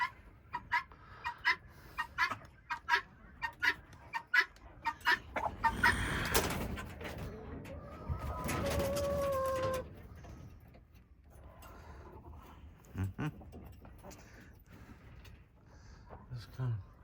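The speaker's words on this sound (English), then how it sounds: "Let's come up close and personal with the chickens." Chickens in a stall cluck and call at close range, with scattered short clucks and a louder squawking burst midway, while a person talks over them at times.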